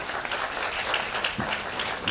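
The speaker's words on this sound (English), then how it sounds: "Yes, she deserves a round of applause." Applause from an audience at an evening concert and launch event, a dense wash of steady clapping held throughout at moderate level, with no voices standing out.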